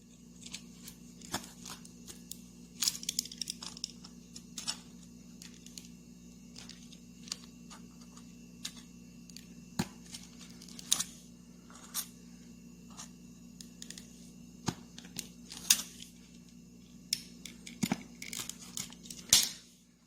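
Foam being cut around a tool-holding pocket shape with a blade, giving irregular scratchy slicing and tearing strokes with crinkly bursts, close and steady throughout under a low background hum.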